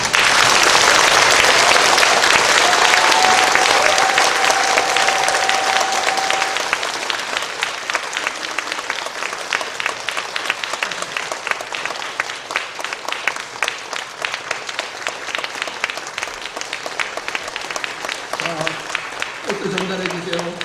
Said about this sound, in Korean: 제 말씀에 동의하시는 큰 박수를 보내주시기 바랍니다